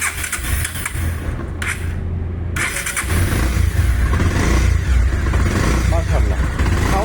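A 2019 Bajaj Pulsar motorcycle with 8000 km on it cranks briefly, falls quiet, then fires up into a steady close idle with slight revs, someone speaking over it.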